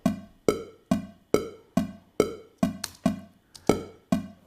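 Metronome click track in Pro Tools set to eighth notes: evenly spaced sharp clicks about every half second, with slightly brighter accented clicks among them, alone and fairly quiet.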